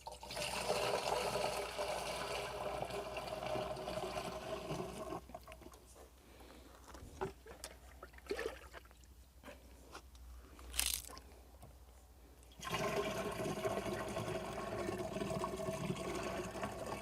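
Water is poured into a bottle already holding half a litre of urine to mix a natural pest-control spray for farm plants. A steady rushing pour runs for several seconds, goes quiet, then starts again.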